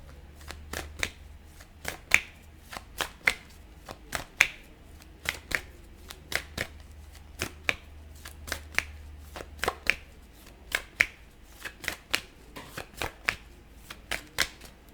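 Tarot deck being shuffled by hand, a long run of crisp, close card riffles and taps repeating in an uneven rhythm, quiet and without speech.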